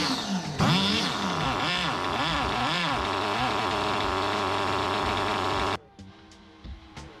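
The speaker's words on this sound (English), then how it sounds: "Heat the engine up. Prime the engine. Open the carb a little bit." A small high-revving nitro model engine being broken in buzzes loudly, its pitch climbing and dipping in repeated throttle bursts, then it cuts off abruptly, leaving a few faint clicks.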